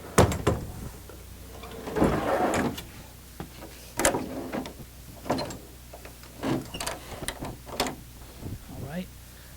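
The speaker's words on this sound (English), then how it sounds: "We have a sliding privacy door." Sliding privacy door inside a 1997 Fleetwood Bounder 34P motorhome, rolling and thudding in several short bursts of scraping and knocking, close by, with gaps of quiet between.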